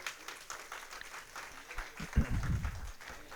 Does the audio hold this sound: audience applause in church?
yes